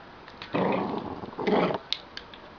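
A dog growls in low, muffled bursts while clamping a pen in its mouth, two rumbling stretches close by with small clicks and snuffles between them.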